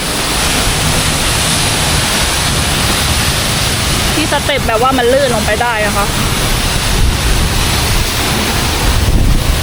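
Steady broadband roar of a waterfall in Slovenia, heard from a path leading behind the falling water, continuous and loud with someone talking over it.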